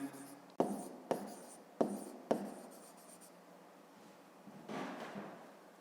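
A pen scratches on paper during a fifth-grade math exercise, giving several sharp taps and strokes in quiet indoor surroundings, then a softer stretch of scribbling near the end.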